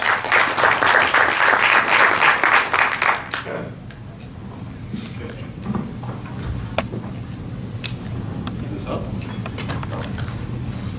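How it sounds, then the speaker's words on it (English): Audience at a shared mobility technology plenary session breaks into dense applause for an arriving speaker, loud for about three seconds before fading into scattered claps and room murmur. "Let's give him a big round of applause"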